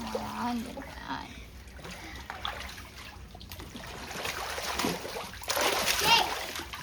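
A child splashes while swimming, with bursts of water sloshing and trickling close by, swelling louder toward the end, while children and adults chatter throughout.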